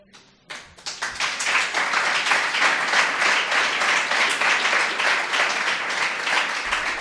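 An audience gives a long round of applause at a talk, the clapping starting from a few scattered hands and quickly swelling into a full, steady crowd sound that holds loud to the end.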